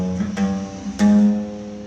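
A beginner's guitar string pressed down firmly and plucked twice, each note ringing clearly and sustaining rather than sounding muted, the second pluck louder and longer.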